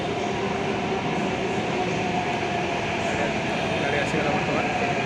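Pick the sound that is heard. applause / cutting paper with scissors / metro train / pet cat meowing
metro train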